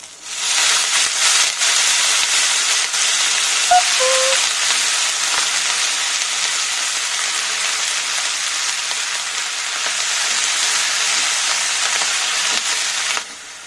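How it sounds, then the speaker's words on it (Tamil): Drumstick leaves sautéing in a pan give a steady, even sizzle and frying hiss that holds for the whole stretch, with one faint clink near the start and no talking. "முருங்கைக்கீரை நல்லா வதங்கிடுச்சு."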